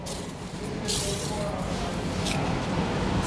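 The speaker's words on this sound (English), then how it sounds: "we're going to put a light mist of product onto the headliner" Mopar fabric protector misted from a spray can onto a car headliner, a continuous hissing spray with a couple of stronger bursts over a low background rumble.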